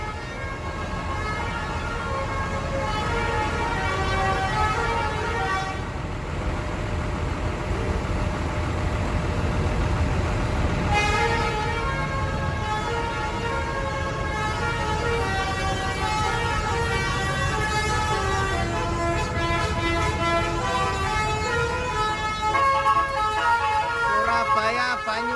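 A miniature bus sounds its distinctive melodic horn in long repeating tune patterns, steady and fairly loud over a busy background, with voices faintly beneath.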